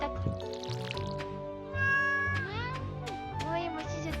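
A cat meows repeatedly in the farming video game Stardew Valley, several rising and falling cries over a steady game music background.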